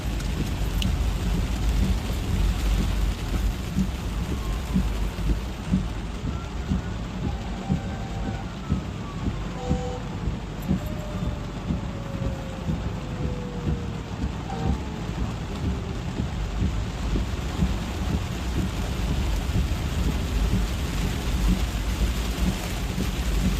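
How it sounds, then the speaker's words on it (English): Heavy rain pours steadily during a flash-flood thunderstorm in Petersburg, Virginia, a dense continuous roar with rumbling thunder underneath and a faint siren wavering in the distance. "we're about to get hit with more heavy rain"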